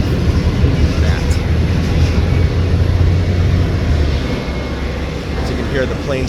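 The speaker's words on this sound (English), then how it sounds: "As you can hear the planes taking off" Planes take off from the Las Vegas airport, heard as a steady low jet roar in the distance beneath road and traffic noise along the Strip near the Welcome Sign.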